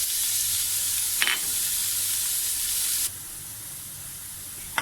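Chicken mince sizzling and frying in a hot pan with garlic-ginger paste, a steady bright hiss with a couple of brief scraping stirs.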